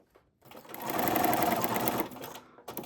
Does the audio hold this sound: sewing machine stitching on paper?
yes